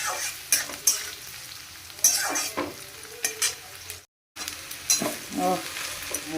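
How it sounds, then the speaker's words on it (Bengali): Carrots, capsicum and potatoes sizzle and fry in a pan while a utensil stirs and scrapes repeatedly, with a brief silent gap midway. "এখানে গাজর ক্যাপসিকাম আর আলু ভাজছি"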